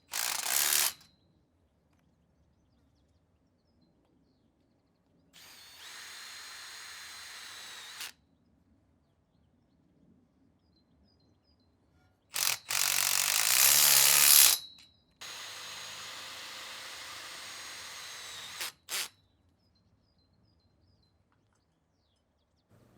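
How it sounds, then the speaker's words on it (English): A power drill drives screws to fix a P-clip onto a polytunnel hoop about nine inches off the ground, in several separate whirring bursts with quiet gaps between them and no talk. "This P-clip can be tightened and screwed in place."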